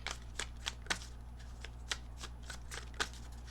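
Tarot cards being shuffled by hand, a quick run of crisp papery riffles and flicks at close range over a steady low background hum, with no one talking.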